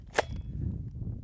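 A single sharp gunshot from a Hi-Point 9mm carbine on a shooting range, one brief crack near the start followed by low background noise, fairly faint and alone.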